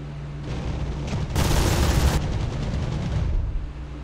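Mosquito FB VI fighter-bomber strafing with cannon and machine guns in DCS World, a rapid rattling burst of gunfire swelling loud for about a second over steady engine drone, then fading back to the aircraft's hum.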